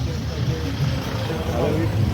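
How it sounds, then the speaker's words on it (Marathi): A vehicle rumbles along the road up Jyotiba hill, a low steady engine and tyre drone close by, heard under a man's speech throughout. "गाडी येते त्यात ती बघा गाडी आली."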